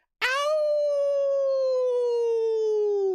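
A single long, steady howl, loud and close, rising sharply at onset and then holding a clear tone that slowly sinks in pitch, with no other sounds around it.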